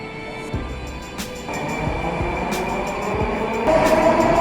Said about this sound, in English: All of this is Kyivskaya metro station, Moscow.